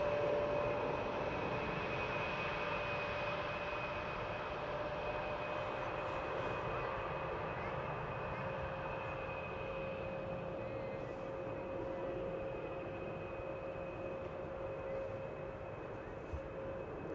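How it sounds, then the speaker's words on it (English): An Air France Embraer 170 arriving at Amsterdam Schiphol after a flight from Lyon, heard as a faint, distant, steady engine rumble and whine with a thin tonal hum. The sound holds level throughout, with no talking. "Air France up, Embraer 170, having arrived from Lyon."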